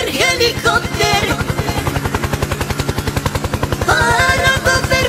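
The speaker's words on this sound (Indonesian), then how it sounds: "Kalau yang ini ada helikopter. Helikopter, helikopter." Toy helicopter producing a steady, rapid electronic rotor chop that repeats throughout, with bright synthetic beeping tones layered on top at the start and end, loud and close.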